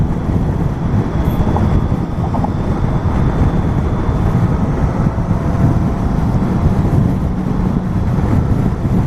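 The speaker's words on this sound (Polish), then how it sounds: "No powiem wam, że tak wieje." Strong wind roaring over a microphone while riding a Honda CB650F motorcycle, a dense continuous low rumble that stays loud throughout with no pauses.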